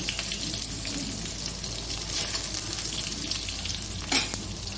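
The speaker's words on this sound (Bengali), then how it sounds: "বেগুনগুলো বেশ ভাজা ভাজা হয়ে গেছে" Eggplant pieces fry in oil, producing a steady, crackling sizzle with brief bursts of louder spatter and stirring scrapes near the end; nobody talks.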